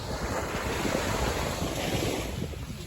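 Ocean waves wash onto a beach in a continuous roar, heavy wind buffeting the microphone throughout, with no voices.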